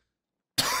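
A sick man gives a single sharp cough, sudden and close after near silence, harsh and breathy, lasting to the end.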